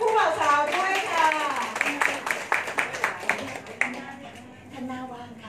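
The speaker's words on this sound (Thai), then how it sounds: "ขอเสียงปรบมือดังๆให้กับผู้บ่าวสาวด้วยค่ะ" Guests at a Thai wedding clap for the bride and groom, a short run of sharp, separate hand claps in the middle of a woman's spoken announcement, fairly close and moderate in volume.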